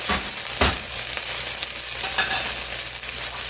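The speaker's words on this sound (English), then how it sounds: "And I'm going to cook them right in these drippings." Green peppers fry in chicken drippings for a chicken cacciatore, giving a steady, close hiss of sizzling fat with a brief stir scrape early on.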